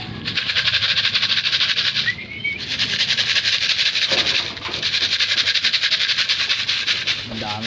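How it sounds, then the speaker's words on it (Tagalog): Pigeons being let out into the morning sun and called back in, with a steady loud bird-related sound and brief flapping or calls, broken by short gaps and a voice near the end. "Yan o, papasukin na natin itong mga ibon natin."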